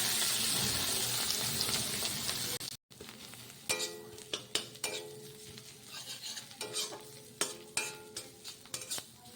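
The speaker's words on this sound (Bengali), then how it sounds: "আমার সব মাছ ভাজা কমপ্লিট, আর বাকি শুধু একটাই।" Fish fries in a pan with a loud broadband sizzle that cuts off abruptly, followed by a run of sharp metallic scrapes and clinks from a utensil against the pan.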